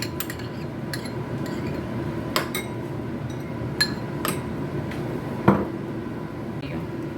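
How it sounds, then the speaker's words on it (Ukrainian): Light clinks and knocks of dishes being shifted on a hard surface ring out at scattered moments over a steady background hum. "Перекладаю більшу посудину і зараз переміщаю."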